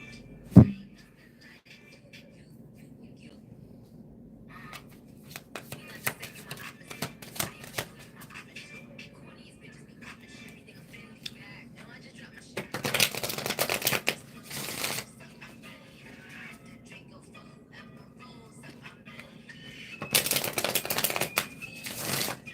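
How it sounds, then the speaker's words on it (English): A new deck of cards is shuffled by hand in two long, close bursts of rapid riffling, with quiet stretches of light handling and faint background noise between them. "Shuffling this new decks together here."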